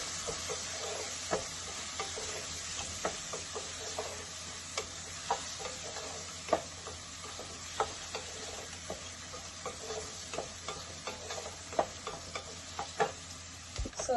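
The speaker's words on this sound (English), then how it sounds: "Some white pepper, and then we stir." Butternut squash soup being stirred after white pepper goes in, a steady run of soft scraping and tapping strokes in the pot, close and fairly quiet, with no one talking.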